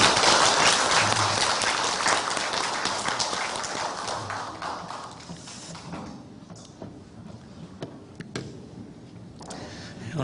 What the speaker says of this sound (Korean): 우리 다 격려의 박수 좀 하겠습니다